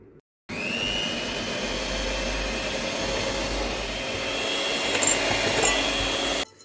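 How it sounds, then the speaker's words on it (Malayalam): Electric blender mixing chocolate chip cookie dough in a home kitchen, a loud steady motor whir running continuously from start to finish with no talking. "ഇനി ഇത് നമുക്ക് ഒരു ബ്ലെൻഡർ വെച്ചിട്ട് മിക്സ് ചെയ്തെടുക്കാം."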